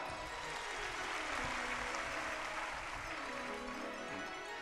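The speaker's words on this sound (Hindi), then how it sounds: "वैसे जितने आए सबके लिए तालियां हो जाएं।" A crowd at a Bhagwat katha religious gathering gives fairly quiet, continuous applause, with a faint steady tone running underneath.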